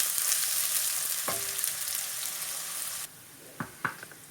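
Bread fries in hot oil with a continuous crackling sizzle and a few sharp clinks of a utensil against the pan, the frying sound dropping lower after a few seconds.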